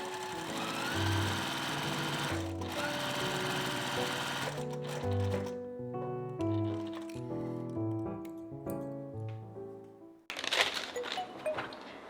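A sewing machine stitches fabric for a high-neck vest, running in a steady close buzz that shifts in pitch as the speed changes, then stops and starts again.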